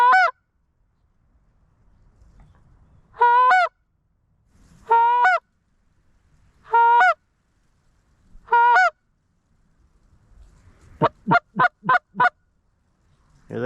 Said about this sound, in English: But really just waiting for some lower geese, and hopefully can talk them in here.